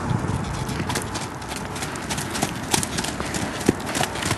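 A buckskin tobiano walker horse moving at a smooth gait, hooves clip-clopping in a steady, repeated rhythm, fairly close over a busy outdoor background.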